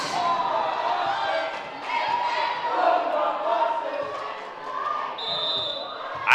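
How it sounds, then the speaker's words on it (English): A high-school student section cheers at a varsity volleyball game in a gym, a sustained rolling crowd chant and shouting that swells and dips, with a commentator talking over it. "I don't know what the student section is cheering"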